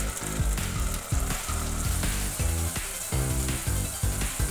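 Tomato paste fries with onions, green chillies and mint in a pan for paneer biryani, a steady loud sizzle broken by rhythmic scraping and stirring strokes, with no talking.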